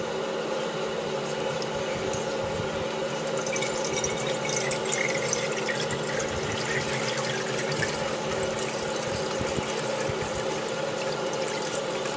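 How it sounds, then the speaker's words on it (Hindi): Water pours steadily into a container for a homemade egg incubator, a continuous splashing, trickling stream heard close up with no talking. "और अब इसमें डालते हैं पानी।"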